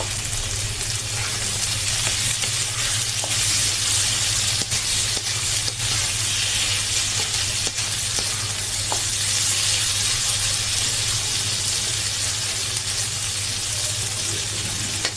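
Paneer and carrot fry in a pan with a steady, close sizzle and hiss, and a few faint stirring clicks come through. The sound holds evenly throughout, with no voices.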